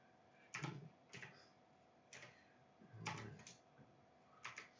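Quiet, sparse keystrokes on a computer keyboard as a password is entered, six or seven separate taps spaced irregularly, some in quick pairs, over a faint steady hum.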